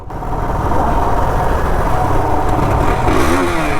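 A motorcycle engine catches and keeps running after a dead battery, on a mountain ride in the dark, giving a loud, close, continuous rough idle with a slight rev.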